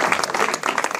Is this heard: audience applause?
yes